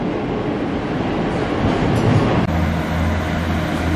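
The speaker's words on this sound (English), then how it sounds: "Here comes the train to Inverurie, which calls at Dyce and Kintore" A passenger train to Inverurie rumbles and rolls into Dyce station steadily, with a low engine hum settling into steady tones as it draws near and slows.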